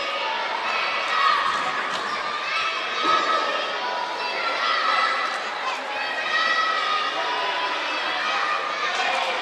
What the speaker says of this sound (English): we got a capacity crowd here. Got all of our junior high, primary in here cheering us on